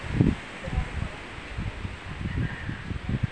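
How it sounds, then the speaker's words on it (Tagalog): Strong wind blowing outdoors, with gusty rumbling buffeting on the microphone and soft leaf rustling, moderately loud, alongside some voices. "Ang lakas ng hangin dito"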